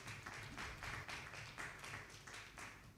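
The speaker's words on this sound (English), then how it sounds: "Let's clap for them." Group clapping at a company's annual general meeting, a faint, evenly paced run of claps in regular bursts about twice a second, heard from a distance with room noise beneath.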